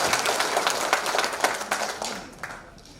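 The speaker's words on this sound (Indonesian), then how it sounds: "Tepuk tangan yang keras." Loud, crowded clapping from supporters at an Indonesian political campaign event, backing a regional head candidate and running mate, rises in uneven bursts and then fades toward the end.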